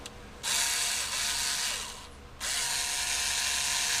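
A reamer cuts out a slightly too-tight hinge-pin hole in an RC10 Classic RC car hub, giving two sustained bursts of harsh, close scraping and grinding with a short pause between them.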